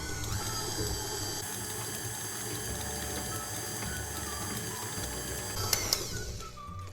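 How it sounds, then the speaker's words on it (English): An electric mixer beats vanilla cupcake batter, a steady close mechanical whir with a wet churning texture that runs throughout and ends with a couple of light knocks. "we're gonna mix this mixture one more time for about 20 to 30 seconds"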